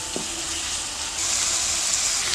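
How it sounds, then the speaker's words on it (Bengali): Spices with cumin powder, coriander powder, salt and green chilli sautéed in hot oil for Bengali rui fish kalia, a steady close sizzle that grows slightly louder halfway through, with a faint stir at the start. "সবগুলো মশলা দিয়ে ভালো করে একটু কষাতে হবে"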